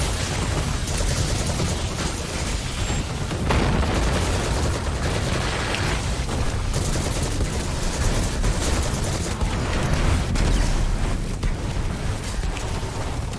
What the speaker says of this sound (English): Now watch as these bosses chain explode